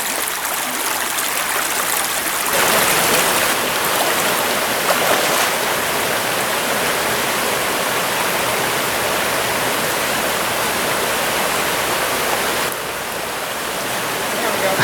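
A fast-flowing stream rushes over a fishing spot in early summer, a loud, close, unbroken hiss of churning water.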